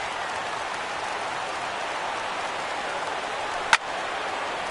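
A stadium crowd of over 39,000 in a baseball video game roars in a steady, dense wash with no break, and one sharp crack stands out near the end.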